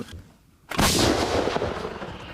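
A single heavy artillery blast from a field gun in freezing winter weather erupts after a quiet moment, loud and booming, followed by a long rumbling echo that rolls on and slowly fades.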